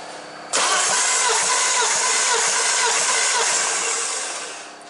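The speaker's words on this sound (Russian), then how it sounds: "Проводится замер компрессии автомобиля Passat B5 98 года выпуска." A 1998 VW Passat B5 with a 1.6-litre AHL petrol engine cranks steadily on the starter during a compression test, a loud, continuous rhythmic churning that begins abruptly after a brief pause and runs without catching.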